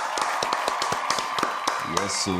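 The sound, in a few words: round of applause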